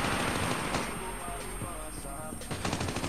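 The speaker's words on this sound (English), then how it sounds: "Gunshot!" Automatic and single gunfire from a Call of Duty: Mobile multiplayer match, dense rapid bursts over a constant loud game soundscape, with a shouted voice and radio-style callouts mixed in.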